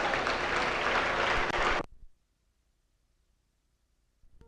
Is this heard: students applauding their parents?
yes